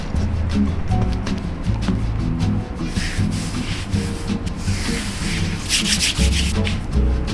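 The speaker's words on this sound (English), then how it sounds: "Bench scraper." A bench scraper scrapes and pushes chocolate chip sourdough dough across a work surface, making a close, continuous rubbing scrape with soft thumps and shuffles.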